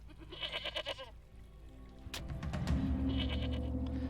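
Goat bleating in the fantasy action RPG Titan Quest, a few quavering bleats near the start with a rumbling, swelling game background and effects underneath.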